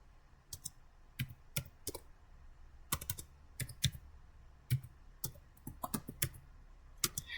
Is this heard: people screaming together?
no